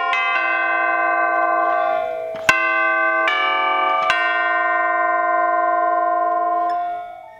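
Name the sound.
orchestral chimes ringing with the pedal down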